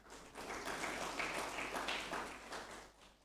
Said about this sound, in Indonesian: Ya, beli tepuk tangan untuk petani.